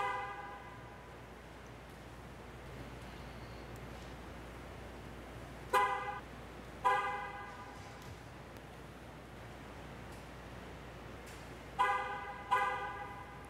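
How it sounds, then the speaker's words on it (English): Two pairs of short car horn honks, signalling a successful tire pressure sensor relearn, sound a few seconds apart over a low background hum, each toot brief and moderately loud. "two horn honks indicate a successful relearn"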